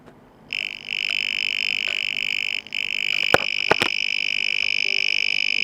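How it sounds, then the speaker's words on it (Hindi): A continuous high-pitched electronic buzzer tone from a homemade voltage detector switches on and holds steady, briefly cutting out once, with a couple of sharp clicks near the end. "उसके पास जाते ही एलईडी ऑन हो रही है और बज़र में से कुछ साउंड भी आ रही है।"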